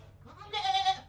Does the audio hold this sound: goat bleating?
yes